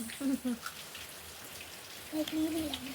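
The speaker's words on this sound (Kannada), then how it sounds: "ಮಳೆ ಬರ್ತದೆ ನೋಡಿ" Rain falls steadily, with a soft patter of drops on surfaces filling the background while a voice breaks in briefly at the start and again near the end.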